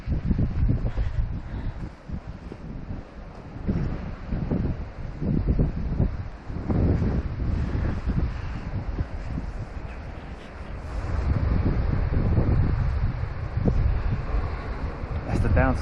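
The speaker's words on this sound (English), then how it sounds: "Or is it too windy?" Wind blows hard along the wild Scottish coast, buffeting the microphone in continuous gusty roars with rustling, swelling louder toward the end, while people talk faintly.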